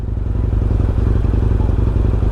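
A Honda MSX motorcycle engine thrums loud and close while riding, a rapid low pulsing beat with steady clatter.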